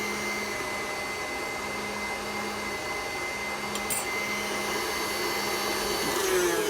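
An electric mixer whirs steadily as it whips a sugar glaze, a continuous close motor drone with a faint high whine that shifts slightly in pitch toward the end.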